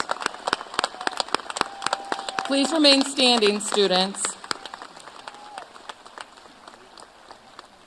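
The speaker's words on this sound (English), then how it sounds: "And let's give them a round of applause" Sparse, individual claps ring out across a high school graduation hall for graduates entering the military, spread across the whole span, while a speaker talks briefly over them.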